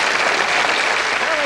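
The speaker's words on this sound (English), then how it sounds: "Give yourselves and Mark Channon a great big round of applause." Dense audience applause fills a game-show studio for a contestant on a memory quiz, a steady wash of many hands clapping at once for about a second and a half, with a voice briefly audible over it.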